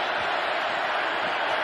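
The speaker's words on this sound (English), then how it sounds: "Crowd in full throat right now." Stadium crowd roaring at an NFL football game on a third down, a loud, steady wall of noise from tens of thousands of fans with no break.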